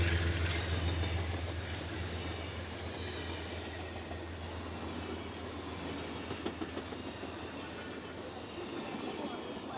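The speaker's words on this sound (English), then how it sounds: "That was the same train that at 11, 12 o'clock at night that would wake me up" A train rolls past at night in Peekskill with a continuous loud rumbling roar and faint rhythmic clatter of wheels, steady throughout with no pauses.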